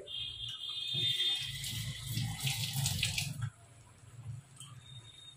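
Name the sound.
water poured into cooking pan with potatoes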